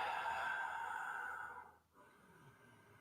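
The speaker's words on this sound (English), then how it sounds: "Breathing." A long, audible breath during a yoga flow, a steady airy exhale that fades out, followed by a quieter inhale at close range with no talk.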